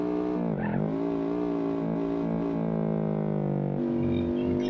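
A small three-wheeled Pigeon car in BeamNG.drive kicking into power oversteer, an engine droning near constant pitch with brief tire squeal as the rear steps out, close and continuous.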